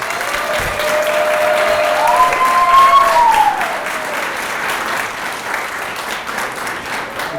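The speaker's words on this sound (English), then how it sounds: "Let's give these students another round of applause." Warm applause from a room of attendees at a county student hero awards event, continuous dense clapping with a faint whistle rising midway, easing slightly toward the end.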